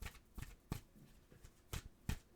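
Tarot cards riffle and snap in short bursts, several quick shuffles with pauses between, close and fairly quiet with no talking.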